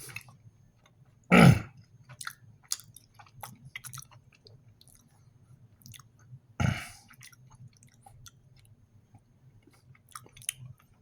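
Slow, wet chewing of a dense, chewy ration bar from a Swedish menu 6 field ration, with two louder close bursts amid soft intermittent mouth sounds and quiet gaps.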